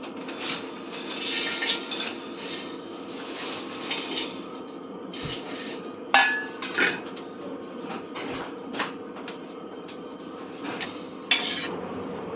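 Whole spices (cloves, black pepper, star anise, mace, fennel, cumin, shahjira, stone flower, bay leaf and coriander) dry roasting in a pan for chicken biryani: steady soft scraping and rustling with occasional sharp clinks of the stirring spoon.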